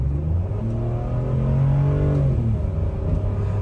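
A Land Rover LR3 in sport mode accelerating from about 15 mph up a highway on-ramp, heard from the cabin as a steady low engine drone with a rising rumble, no voices.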